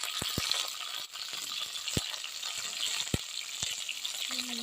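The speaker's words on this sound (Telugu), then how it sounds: "కడాయి పెట్టుకొని దీంట్లో పెద్దగా కట్ చేసుకున్న ఆనియన్స్, అలానే టమాటాలు వేసుకోవాలి." Onions and tomatoes sizzle steadily in a hot kadai, a continuous close frying hiss broken by a few sharp clinks and taps of a utensil against the pan.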